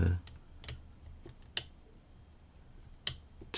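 Pins of a piston pin challenge lock being picked: a few sharp, sparse metallic clicks and taps spaced about a second apart, close and faint, with a brief voice at the start.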